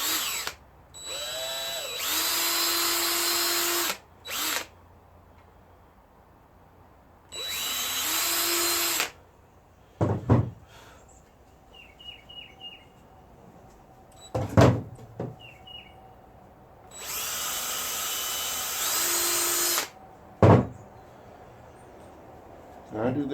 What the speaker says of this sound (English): Just gonna take a small drill bit and just make little pilot holes.